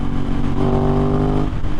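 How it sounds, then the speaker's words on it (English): Motorcycle fitted with an Akrapovic full exhaust, close and loud, revving in a short rising engine note that holds and then drops, heard alone without talk. "He's got the beautiful Akrapovic exhaust on it, full exhaust, which makes this thing absolutely scream."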